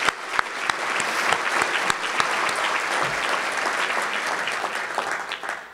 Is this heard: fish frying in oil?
no